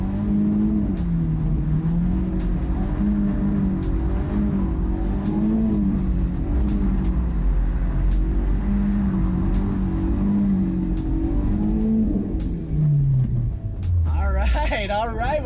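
BMW E36 318is engine pulled hard through the revs while drifting roundabouts, a loud in-cabin drone rising and falling in pitch for most of the stretch, then climbing sharply near the end as a voice talks underneath.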